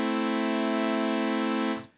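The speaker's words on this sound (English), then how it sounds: "We're starting from scratch with just a saw wave there." A bright, buzzy sawtooth synth tone holds one steady pitch, harsh and loud, then cuts off abruptly.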